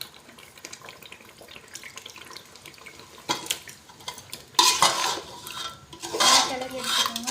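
About a kilo of chicken being stirred into masala in a pot for biryani, giving wet scraping and clinking of a spoon against the vessel, intermittent and close, getting louder and busier toward the end.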